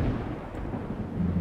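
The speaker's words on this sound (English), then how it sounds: "Thunder is so loud." Thunder rumbles in the survival video game Project Zomboid during a lightning storm, a loud, continuous low roll that fills the whole stretch without any talk.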